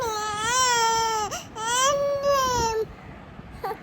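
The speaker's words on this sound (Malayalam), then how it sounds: "അപ്പോൾ ഇവളെന്നെ ഇങ്ങനെ അമ്മാന്ന് വിളിച്ച് കരഞ്ഞു." A baby girl cries loudly and close by in long wailing bursts, two drawn-out cries with a brief break between, her voice rising and falling as though calling for her mother, then trailing off into faint whimpers.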